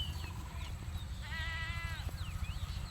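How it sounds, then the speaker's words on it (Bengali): A grazing flock of sheep bleats nearby, one long wavering cry in the middle with shorter calls around it, over a low steady rumble and faint chirping birds. "এটা হলো ভেড়ার পাল, এক পাল ভেড়া"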